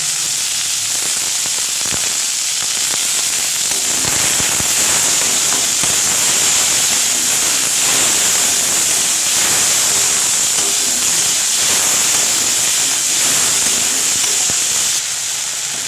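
Chopped tomato with ginger pieces, green chilli and a pinch of salt hitting a hot pan, a loud, steady hiss and crackle of sizzling that holds for about fifteen seconds before cutting off abruptly.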